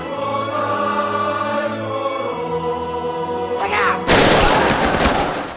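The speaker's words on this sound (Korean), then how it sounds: "계엄군의 집단 발포가 시작된 것입니다." Martial law troops open mass fire on a crowd of citizens in front of the South Jeolla Provincial Office plaza in Gwangju, May 1980; a sustained choral national anthem is abruptly cut by a loud, dense burst of gunfire that dominates the final seconds.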